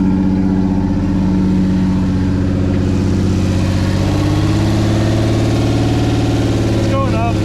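Project F car's engine idling at close range with a steady low rumble that rises in pitch as the RPM climbs. People talk over it throughout.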